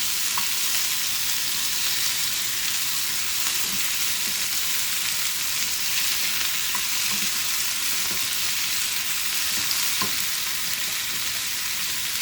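Chopped tomatoes for chicken jalfrezi sizzle and fry in a hot pan, with a steady bright crackle and an occasional soft stir throughout, and no voices.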